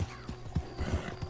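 A Morgan horse with a burnt chestnut coat in the video game Red Dead Redemption 2 clops its hooves in uneven, close thuds and gives a short whinny, with no talk over it.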